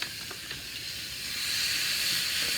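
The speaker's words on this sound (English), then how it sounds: "Putting these steaks here, and you hear it sizzle." A cowboy steak laid on a hot kettle charcoal grill, giving a steady hissing sizzle that grows louder partway through after a couple of faint taps.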